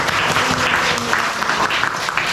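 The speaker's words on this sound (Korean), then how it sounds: "영광의 박수를 하나님께 올리겠습니다." Church congregation applauding together in a worship service, a steady dense clapping that fills the room, loud and continuous with a faint voice or tone underneath.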